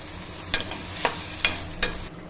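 Pieces of asafoetida fry in about four spoons of hot oil in a pan, giving a soft, steady sizzle broken by four sharp, evenly spaced taps.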